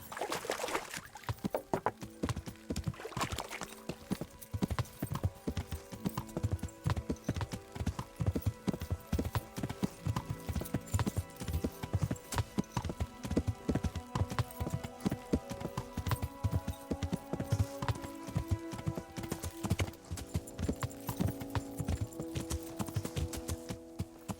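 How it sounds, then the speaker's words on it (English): Rhythmic horse hooves clip-clop continuously at a steady trot in Kingdom Come: Deliverance, with faint game music tones underneath. "Learn how to ride a horse"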